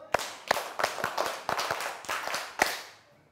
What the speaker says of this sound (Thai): ปรบมือ1ครั้ง 2ครั้ง